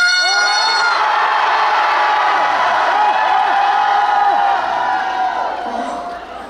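Fans at an outdoor temple-grounds concert cheer, scream and whoop together in a loud, sustained roar that stays full for several seconds before starting to fade.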